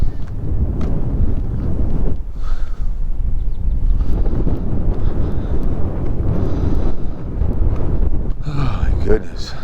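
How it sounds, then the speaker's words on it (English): Strong wind gusting beside the high, fast-flowing Mississippi River, a steady roaring rumble buffeting the microphone throughout, with a voice heard briefly under it. "A little windy out, but I've had worse."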